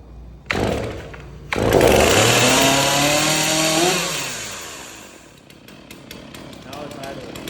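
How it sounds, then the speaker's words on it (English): A fire department chainsaw, hot after earlier running, fires up loudly and close, revs hard for a couple of seconds, then drops back to a lower steady idle. "In order to make that chain stop, I have to come to the throttle trigger and click it,"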